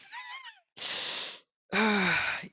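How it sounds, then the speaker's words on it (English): Heavy breathing in a tabletop dice game session: three long, breathy exhales or sighs separated by short silences, close and fairly loud, with a voiced groaning tone in the last one. "I'm hearing heavy breathing."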